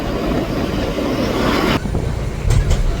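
A train rumbles loudly and steadily across an iron railway bridge near the Khamgaon bypass, with a constant dense roar and a slight shift midway.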